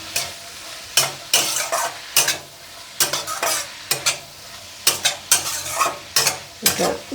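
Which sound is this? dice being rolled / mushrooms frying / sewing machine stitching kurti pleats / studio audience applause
mushrooms frying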